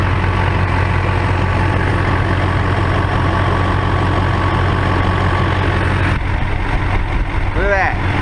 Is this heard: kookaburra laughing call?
no